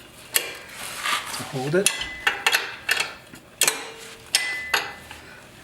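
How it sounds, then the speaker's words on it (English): An Allen key and a wrench tighten a bolt on a Moto Guzzi Stelvio motorcycle, making several sharp metallic clicks and ratcheting clanks at irregular intervals, close up, with someone speaking briefly between them. "back in the bottom with the Allen key, and now I'm just going to use the wrench"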